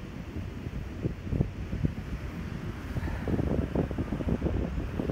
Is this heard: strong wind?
yes